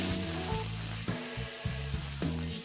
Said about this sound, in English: Let's saute this till the raw smell goes off.